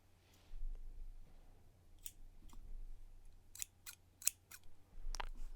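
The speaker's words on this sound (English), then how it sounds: "if I take my circle and I snip it with some scissors" Scissors snip through a thin paper circle from edge to center in a series of short, crisp cuts, close and quiet against a soft low hum, with several sharp snips clustered near the end and no talking.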